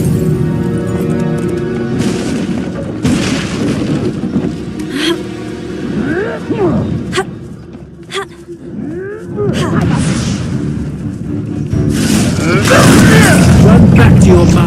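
A Confringo blasting spell bursts in a Hogwarts Legacy duel, heavy booms and crackling impacts rising amid ongoing combat noise, with voices shouting over the fray.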